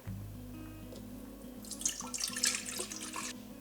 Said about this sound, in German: Wir brauchen das Wasser in den Behälter.